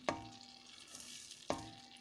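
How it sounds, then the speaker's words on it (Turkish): Two tablespoons of butter and a little vegetable oil melt in a pot for a meatless dry bean stew, giving a soft, steady sizzle broken by two sharp clinks of a stirring utensil against the pot. "Tenceremizin içerisine 2 yemek kaşığı kadar tereyağı, biraz da sıvı yağ ilave ettim."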